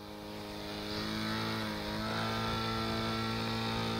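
A model airplane's small glow engine drones at a steady pitch, rising gradually toward full throttle with a brief dip near two seconds before climbing again, loud and continuous, with no voices.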